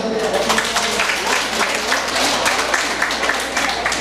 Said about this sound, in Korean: 자, 우리 박수 한번 주세요.